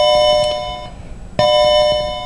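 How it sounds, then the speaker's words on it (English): A bell rings with sustained bright tones, struck twice with a brief lull between, loud and close with no talking. "I'll let the bell finish ringing there"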